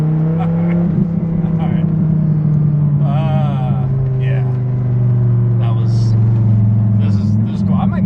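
A Velocity Mustang's engine drones and rises in pitch close up, with a brief swell near the start, while people talk over it.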